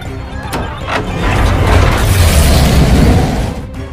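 A grenade explosion in a film: a loud, rumbling blast swells into a sustained roar with crashing debris, heavy and close, after a few sharp impacts at the start.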